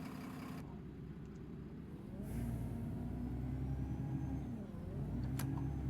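Engine of a Dennis Trident II E400 double-decker bus in the OMSI 2 driving simulator, a steady low diesel drone that swells as it pulls away, heard alone at moderate level.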